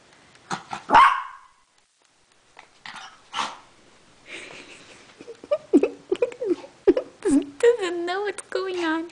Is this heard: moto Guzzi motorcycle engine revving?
no